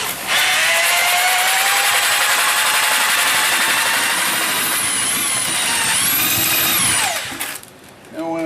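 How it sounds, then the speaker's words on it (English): A half-inch drill fitted with a paddle churns concrete, its loud, close motor whine holding steady for about seven seconds, shifting pitch as the load changes, then cutting off. "what I use to mix mine is just a paddle on a 1/2-inch drill."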